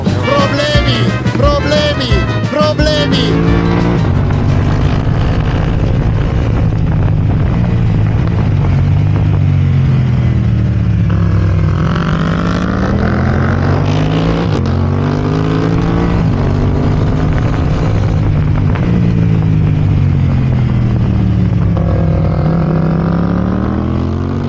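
A new Yamaha R3 motorcycle rides steadily on a cold day, its engine droning loud and close throughout, pitch rising and falling as the rider works through the revs.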